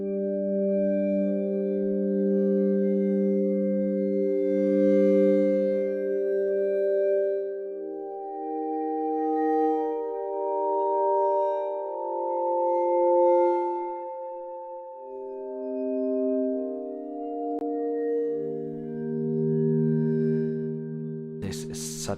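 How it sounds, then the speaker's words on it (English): The Frozen Vibes virtual percussion instrument by Fracture Sounds plays slow, overlapping sustained vibraphone-like chords with a shimmering, airy tail, shifting through soft harmonies alone before a brief sharp burst at the end. "the frozen percussion bundle, which is Frozen Vibes and Frozen Crotalis"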